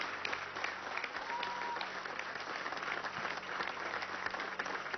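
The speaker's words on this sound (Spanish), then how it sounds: "Un aplauso a nuestros atletas olímpicos y paraolímpicos." An audience at a government housing handover event in Venezuela applauds Olympic and Paralympic athletes, with steady crowd clapping, fairly distant and muffled, and faint voices underneath.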